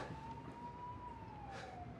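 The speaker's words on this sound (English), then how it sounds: "And what are those sirens?" A distant police siren drifts in as a faint, gliding tone that rises and falls gently over a low background rumble, with no voices.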